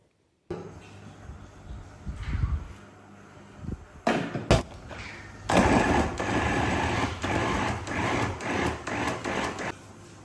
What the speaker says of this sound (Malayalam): ഇത് സ്ലൈസറല്ല, ചോപ്പറാണ്.